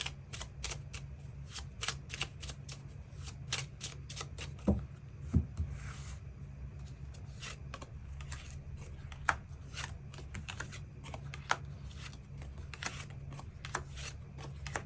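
Tarot cards are shuffled and drawn on a table, giving a continuous faint riffling with scattered soft snaps and taps throughout, over a low steady background hum.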